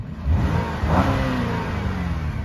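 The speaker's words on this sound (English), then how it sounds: "Got the Saturn XR. Let's give her a rev." A 2007 Saturn Aura XR with the 3.6 engine revs up twice in quick succession, a close, loud rising surge then settling back toward idle, with no voices.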